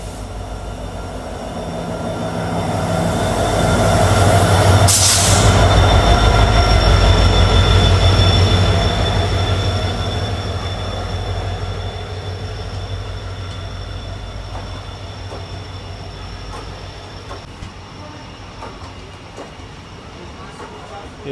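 A passenger train on the Kolkata Sairang Express route rumbles past a crossing through hilly ghat country, with a steady loud roll of wheels, rhythmic clatter and a brief sharp squeal. Someone talks over it.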